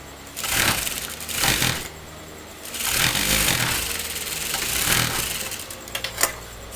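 A domestic sewing machine runs in several short bursts as it stitches a seam across fabric for a kurta, its motor whirring up and stopping between passes, with faint clicks near the end.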